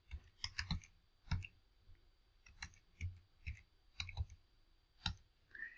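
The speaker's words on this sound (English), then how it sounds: "So I'm going to type in a domain that I have access to." Typing a domain name on a computer keyboard: quiet, close key clicks in irregular bursts, some rapid clusters and single taps, with no talk.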